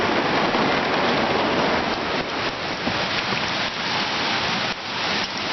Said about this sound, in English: It is just raining incredibly hard right now.